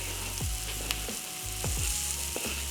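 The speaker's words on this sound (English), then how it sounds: "So I'm gonna add in the garlic." Garlic frying with spices in a pan for a vegan dal makes a close, continuous sizzle, broken by a few quick scraping stirs and clanks, with no voices.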